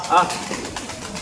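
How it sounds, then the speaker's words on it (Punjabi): Pigeons cooing nearby in a short low call at the start, with a person's voice and outdoor background noise mixed in. "ਕਬੂਤਰ ਉੱਡਦੇ ਆ"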